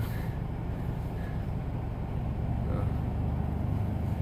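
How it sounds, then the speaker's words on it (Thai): A farm tractor engine runs at a steady idle nearby, a continuous low rumble with no breaks, heard alone throughout. "เห็นรถไถขยับอยู่คันหนึ่ง"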